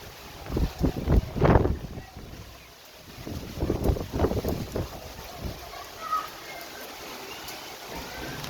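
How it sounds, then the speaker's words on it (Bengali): Gusty wind during a rainstorm in Sylhet after a heatwave, buffeting in loud irregular bursts that swell and fade over a lower steady rush. "এই দমকা হওয়ায়"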